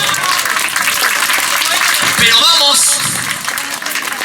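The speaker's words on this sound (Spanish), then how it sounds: "Fuerte los aplausos, por favor." Concert audience applause during a tribute, loud and sustained throughout, mixed with crowd noise and a voice speaking over it.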